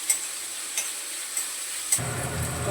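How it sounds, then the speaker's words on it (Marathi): Onion and tomato masala sizzles steadily in a pan, with regular scraping strokes of a spatula stirring it. At the end the sizzle grows louder and fuller. "आता हे सगळं एकत्र चांगलं परतवून घेते"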